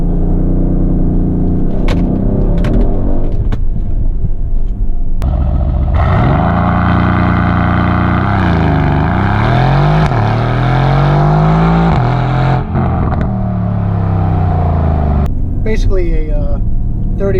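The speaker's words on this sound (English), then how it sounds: "Going to do a little race start." A 2020 Mercedes-AMG GLC 63 S Coupe doing a race start, its engine rumbling loudly, then surging through rising revs with gear changes heard from inside the cabin, with talk over it.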